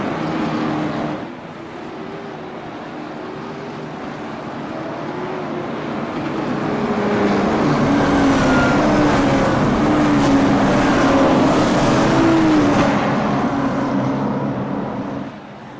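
Late model race cars circling a USA track on a warm-up run to heat their tires, a loud steady engine drone with rising and falling pitch as the field passes, swelling louder through the middle before easing off.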